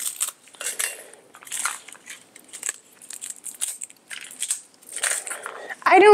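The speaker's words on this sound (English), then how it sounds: "We just need to take the stems off the red chilies because we're gonna soak these too" Stems snapped off dried red chilies by hand, producing a run of dry, crisp crackles and crunches up close in irregular bursts, ending in a louder rustle.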